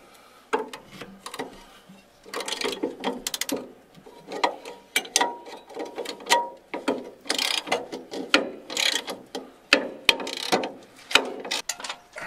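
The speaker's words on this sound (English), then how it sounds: "I have an 18 millimeter socket and an 18 millimeter wrench." A ratchet wrench clicks rapidly as an 18 mm socket is turned on the rear suspension of a 1986 Foxbody with a 7.5 rear end, loud close bursts of ratcheting strokes repeating in uneven runs.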